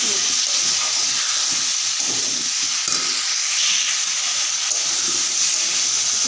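Potatoes being stir-fried in a hot pan, a continuous bright sizzle with occasional soft scrapes of stirring close up.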